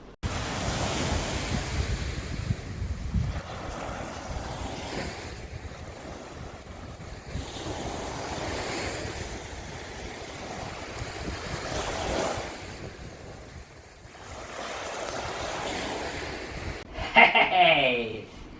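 Sea waves roll and wash against the shore in slow surges at the seaside, with gusty wind buffeting the microphone throughout and a voice briefly heard near the end.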